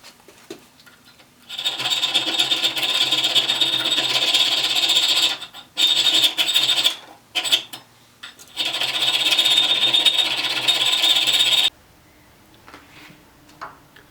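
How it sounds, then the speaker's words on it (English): Steady rasping strokes of a hand file cutting a slot into a steel knife blank clamped in a vise, sustained and close, broken by a few brief pauses before stopping. "I'm just going to file out this slot so that I will be able to fit in the threaded rod"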